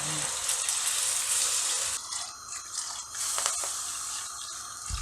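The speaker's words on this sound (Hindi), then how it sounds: "अब मैं इसमें पानी, उबला हुआ पानी डालूँगी।" Boiled water is poured into a pot of braising sheep trotters (paya) cooked in ghee, a splashing, hissing pour that thins into lighter gurgles and drips partway through.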